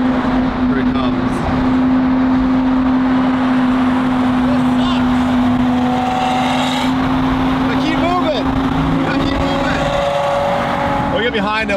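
A Lamborghini SVJ engine drones steadily and loudly while driving in slowing traffic, holding a constant tone with passing vehicle noise around it and a voice talking over it.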